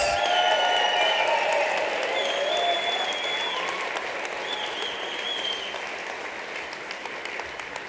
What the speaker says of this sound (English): Let's give them a big freaking round of applause